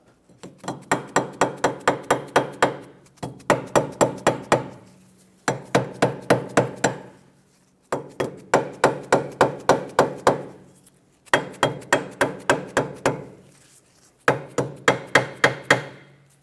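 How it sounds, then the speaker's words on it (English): A rubber mallet taps a rear wheel bearing and hub assembly into place on a Mazda 6, six loud bursts of quick repeated blows, each rising in force, separated by short silent pauses. "If it doesn't go in perfectly straight, you can help it out with a rubber mallet."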